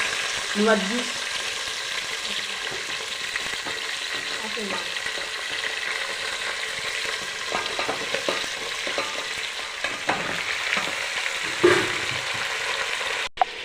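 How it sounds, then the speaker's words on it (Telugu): Onion and carrot frying in oil for Andhra sambar, a steady close sizzle with occasional stirring scrapes, continuing without talk. "వెజిటేబుల్ అన్నీ వేసుకుని ఆయిల్లో 2 నిమిషాలు ఫ్రై చేసుకోవాలండి"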